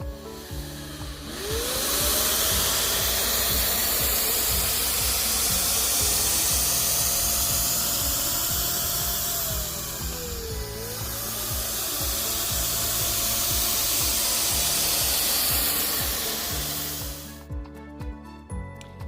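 Wagner FLEXiO 3000 paint sprayer applying wood stain, giving a loud, steady airy hiss over a constant motor whine that runs continuously for most of the stretch, dipping briefly midway and stopping near the end.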